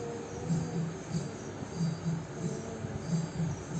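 Moving train: a continuous rumble with a rhythmic clatter of wheels over rail joints recurring in regular pairs, moderately quiet and steady, with no voices.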